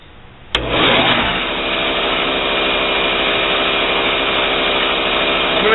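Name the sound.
grinder profiling a knife blade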